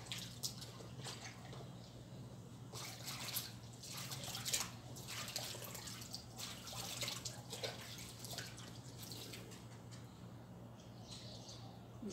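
Water runs and splashes while a pet is being bathed, a soft, steady trickle with intermittent splashing and dripping, faint and close, with no talking.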